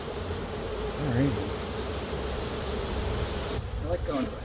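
Honey bees buzz at a hive during a pre-winter check, giving a steady, close drone with a louder swell partway through and faint voices underneath.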